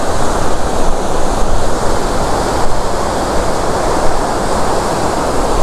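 Clean fresh water from Kalri Lake pours out through a supply channel toward Karachi, a steady, loud, dense rushing roar with no pauses, heard up close and alone.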